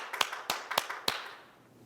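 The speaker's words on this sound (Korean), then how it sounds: "우리 하나님 감사하며 박수로 영광 돌리겠습니다." A church congregation at a Sunday worship service gives a short burst of scattered hand claps, a handful of distinct slaps at moderate distance that quickly thin out and fade into quiet.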